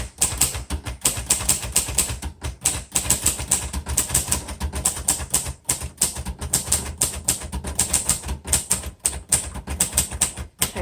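Rapid typing on a 1949 Royal Arrow manual portable typewriter, loud close clacking keystrokes in a fast continuous stream with brief pauses, unaccompanied by speech.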